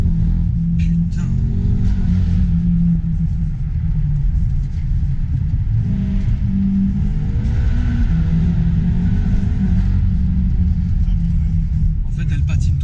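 A BMW M5 F10 tuned to 750 hp accelerates hard with its wheels spinning, a loud, steady low engine rumble and roar that fills the whole stretch with little change, heard close from inside the car.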